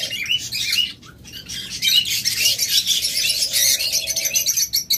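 Lovebirds, budgerigars and cockatiels chirp together in a busy flock, a dense, continuous stream of high tweets and squawks close by, with no voices over it.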